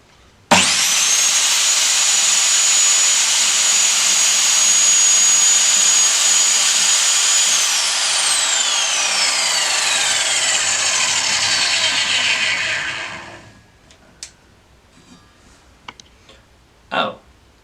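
Excel 8.5-inch 216mm 24-tooth 1500W mitre saw cutting through wood: a loud, close motor whine spins up, holds under the cut, then slides down in pitch as the blade winds down, followed by a few small clunks.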